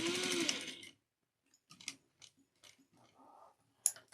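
A sewing machine back stitching on a recessed zipper pouch: a brief, fairly quiet burst of rapid stitching under a second long, followed by scattered soft clicks and handling taps.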